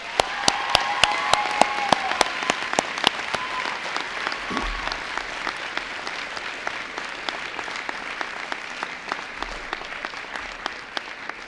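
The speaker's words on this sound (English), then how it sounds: "I always notice friends and family and relatives clapping themselves" Audience applause at a ceremony, crisp separate claps ringing out at first over a softer crowd patter that gradually thins and quiets as it goes on.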